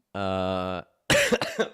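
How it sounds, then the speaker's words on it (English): A sick adult coughs in a few harsh, broadband bursts near the end of a call, after a steady tonal hum. "I will be coughing, if you don't mind"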